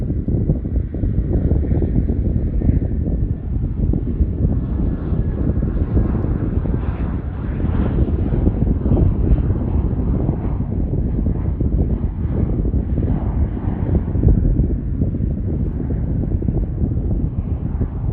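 A commercial airliner taking off at Charlotte Douglas International Airport, a steady loud engine roar with wind buffeting the microphone, holding nearly constant throughout without any talk.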